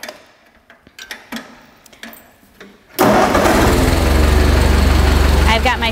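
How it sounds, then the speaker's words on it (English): Ford 9N, 2N or 8N tractor engine, after a few quiet clicks and knocks of handling, bursts into life and settles into a loud, steady, close-up idle with a rapid rhythmic chug. "I've got my tractor at an idle here,"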